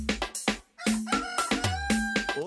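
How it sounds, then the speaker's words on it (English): A rooster crows loudly and close by, several strident crowing calls in quick succession with short gaps, standing alone without talk. "Okay, that's a rooster."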